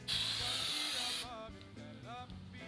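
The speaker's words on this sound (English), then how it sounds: "hold the fixative canister at least a foot away from the portrait and spray it across the portrait" A bright, steady hiss of aerosol fixative sprayed across a drawn portrait from about a foot away for about a second, then stops, leaving faint background sounds.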